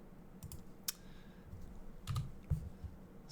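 Typing on a computer keyboard at a desk, a quick irregular run of close, soft key clicks and taps with a couple of sharper strokes, heard alone without talk.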